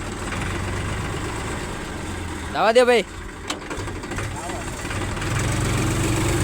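A tractor with a mechanical problem idles with a low, steady rumble throughout, while someone talks briefly over it partway through.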